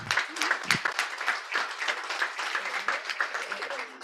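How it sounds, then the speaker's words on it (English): Steady audience applause for award runners-up at a ceremony, a continuous dense wash of many hands clapping that holds at an even loudness throughout, with no talk over it. "Join me in a round of applause."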